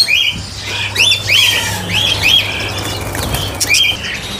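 A small caged bird gives a run of harsh, repeated squawks while its wings flap and rustle against the cage, close and fairly loud over quiet background hiss.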